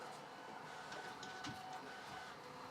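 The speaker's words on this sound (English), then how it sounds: "It's actually my 3D printer mixed with my dog's paws because they're getting dinner right now." A 3D printer whirs and hums quietly in the background, its steady mechanical drone broken by a few soft ticks and clicks.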